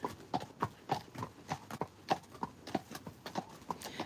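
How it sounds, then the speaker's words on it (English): Friesian horses walking, their hooves clip-clopping in a steady, even rhythm of distinct strikes, fairly quiet and alone without talk. "They're Friesian horses."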